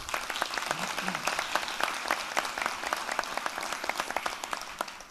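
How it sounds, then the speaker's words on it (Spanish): An audience at a conference session in Peru applauds steadily, a dense run of clapping at moderate level that carries evenly throughout. "al cual pido un fuerte aplauso"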